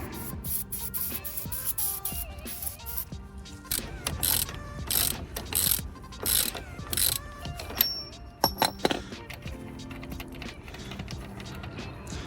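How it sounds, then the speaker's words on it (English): Ratchet working a hub nut loose on a Vauxhall Corsa D during drive shaft removal, with irregular bursts of quick clicking and metallic clatter, near and fairly loud, pausing and resuming over several seconds. "what we're going to do is just loosen this hub nut all the way off"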